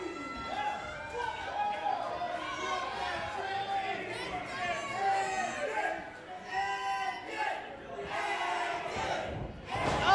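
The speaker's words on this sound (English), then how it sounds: "This crowd fired up." Crowd at a 901 Wrestling main event in Memphis, TN, with steady cheering, shouting and chatter throughout, a commentator talking over the noise.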